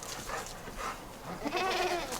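A goat bleats several times outdoors on a cold, damp day near a fence, the calls wavering and moderately close over a low ambient rumble.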